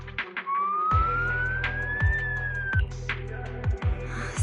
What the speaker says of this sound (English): So it really is a siren.